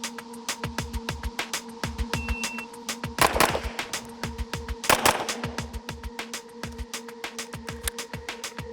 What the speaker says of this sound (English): We'll do 2 shots this target, move over and do 2 shots on that target.